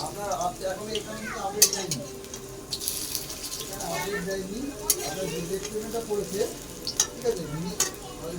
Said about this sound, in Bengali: আমি পকোড়া ভাজছি